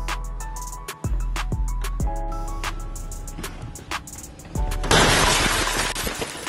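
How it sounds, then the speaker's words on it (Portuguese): Factory-fitted car window glass without safety film smashed in a laboratory smash-and-grab break-in test: repeated sharp loud impacts, then a final burst of shattering glass with crackling fragments. "leva menos de 4 segundos para se quebrar o vidro, roubar os bens e escapar"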